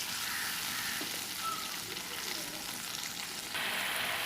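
Ground spices and salt frying in oil for a fish and papaya curry, a dense, even sizzle close up that holds steady throughout and swells slightly louder near the end, with no talking.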